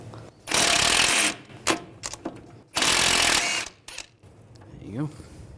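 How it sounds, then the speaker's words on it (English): Two bursts of a power tool whir loudly as a 14mm socket removes a tie rod nut on a Nissan Juke, separated by clicks and metallic clatter, with a brief voice near the end. "We're going to take this nut off. Use a 14mm socket."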